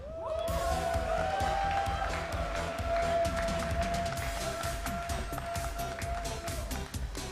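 Crowd at an N64 Smash Bros. tournament grand finals cheering and clapping loudly and steadily, a dense roar of applause with whoops, a sustained high tone running through it.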